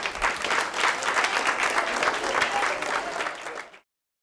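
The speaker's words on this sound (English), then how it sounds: "We applaud you all today." An audience claps in steady, dense applause for several seconds, then cuts off abruptly.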